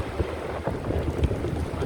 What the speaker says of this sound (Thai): ลมแรงลมแรงมาก พี่น้อง